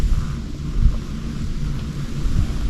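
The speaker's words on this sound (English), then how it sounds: "Super freaking windy up here on this hill." Strong wind on a hilltop roars and buffets against the microphone in a continuous low rumble, gusting slightly louder at moments, with no other sounds standing out.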